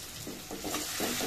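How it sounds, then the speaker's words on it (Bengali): Cumin powder and garlic paste frying in a pan while being stirred, a close sizzle broken by several soft scraping strokes of a utensil, no voices. "দিয়ে খুব সুন্দর করে একটু নেড়ে চেড়ে নিব, যাতে মশলাটা পুড়ে না যায়।"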